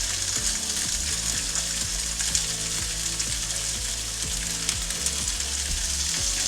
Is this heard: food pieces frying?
yes